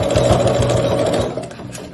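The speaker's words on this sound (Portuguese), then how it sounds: "eu começo um pouco à frente e vou em ré na máquina, em retrocesso. E aí, a costura normal" Sewing machine running steadily to stitch a finishing seam on a mesh bag, a loud continuous whir close by that eases off slightly near the end, with no voices.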